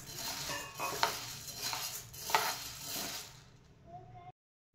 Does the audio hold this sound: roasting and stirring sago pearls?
yes